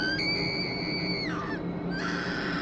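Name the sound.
woman screaming, horror story sound effect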